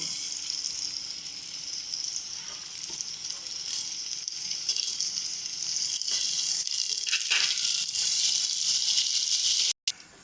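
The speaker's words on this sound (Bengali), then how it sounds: "পরিমাণ মতন আদা বাটা এখানে আমরা দুটোই ওয়ান স্পুন করে ব্যবহার করেছি ভালো করে এবার এটাকে পেঁয়াজের সাথে মিশিয়ে নেব" Ginger paste is stirred into onions frying in a pan, producing a steady close sizzle with occasional scraping stir sounds, continuous until a brief cut at the end.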